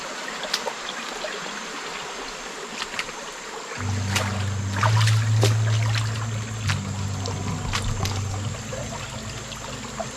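Forest stream near Dudhsagar in a jungle, steady trickling and gurgling water close by, joined midway by a low rumbling drone and scattered sharp clicks and knocks.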